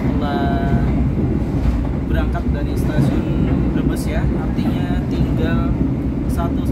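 The Argo Cheribon passenger train pulls out of Brebes station, a loud continuous rumble and rolling clatter with faint squeals, while a voice talks over it.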